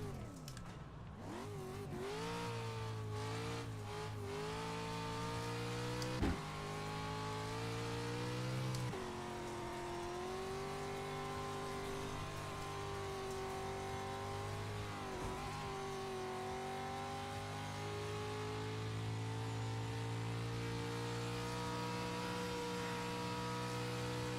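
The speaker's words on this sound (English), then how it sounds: "he did a race with the GR86 with the new sequential shifter he got" A Toyota GR86 race car fitted with a sequential shifter, its engine droning at high revs on track, pitch rising and dropping sharply at each gear change, a loud sustained in-car engine note with a few quick shifts.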